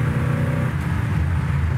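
A 1963 Mercury Marauder, a big old car with a 390 high-performance V8, accelerating on the road; a steady, loud engine drone with continuous low rumble throughout, no speech.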